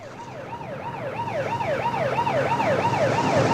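An ambulance siren from the comedy film Pee-wee's Big Adventure wails in a steady, repeating up-and-down cycle, growing louder over a few seconds as the vehicle approaches, with road noise beneath and no talking.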